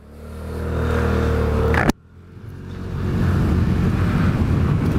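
A Vespa GTS Super 300 scooter on a commute ride, with a steady engine drone and wind rush that cuts out sharply for a moment, then builds back up as it accelerates again.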